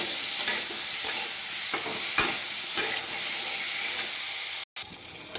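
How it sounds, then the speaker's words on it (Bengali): Green banana pieces with turmeric and salt fry in oil, making a steady close sizzle with light stirring scrapes. There is a brief dropout near the end. "তারপরে এই কলাটা ঢেলে দেব, দিয়ে 5 মিনিট এটাকে ভেজে নিতে হবে"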